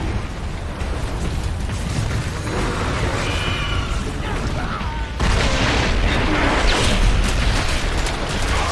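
Explosions roar as a cannon is destroyed in StarCraft II, heavy rumbling blasts building into a louder, sustained eruption of booms and debris.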